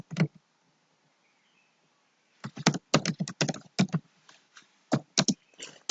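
Code being typed on a computer keyboard: after a quiet stretch, a quick run of close, crisp key clicks, uneven and bunched, then a few more scattered taps.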